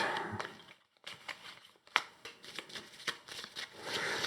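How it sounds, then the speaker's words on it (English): Close, crisp riffling and snapping of playing cards being shuffled into the encounter deck for a solo game of the Neon Hope board game demo, coming in repeated bursts separated by brief pauses, with no talk. "these are shuffled into the encounter deck"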